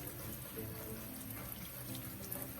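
Water runs steadily from a tap, a continuous close splashing flow with no talk, drawn for watering Thanksgiving cacti and other houseplants.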